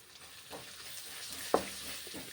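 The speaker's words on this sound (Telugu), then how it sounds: "కొంచెం ఉప్పు, కొంచెం గరం మసాలా పౌడర్ వేసి నీట్గా కలిపేసుకోవాలి." Tender tamarind leaves frying in a pan as salt and garam masala are mixed in, a soft steady sizzle with one sharp scrape of the spoon midway, quiet and close.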